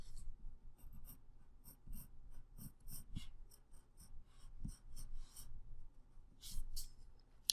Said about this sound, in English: I just want to draw out the outline of my mountain